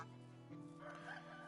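Chickens and a rooster in the Medieval Dynasty farm game give steady clucking with a crowing call rising in the second half, close and loud, with no talk over them.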